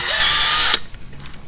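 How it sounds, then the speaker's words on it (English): A power drill whines loudly as it bores small holes into an OEM Honda shifter shaft seal on a 1985 Shadow 700 motorcycle, one steady burst that stops abruptly halfway, leaving quiet clicks. "I'm going to drill two small holes in this."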